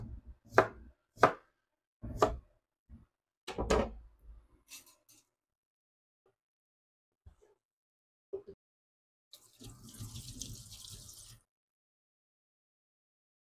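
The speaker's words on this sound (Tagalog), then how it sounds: "Maghiwa na rin po tayo ng ating kamatis." A knife chops tomatoes on a cutting board in a few quick bursts of sharp, close knocks, then scattered single taps and a short scraping rustle.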